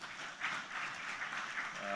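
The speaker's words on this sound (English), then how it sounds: "Let's give them a round of applause" Conference attendees give a round of applause, a soft, distant blur of many hands clapping in a large hall, fairly quiet and continuous throughout.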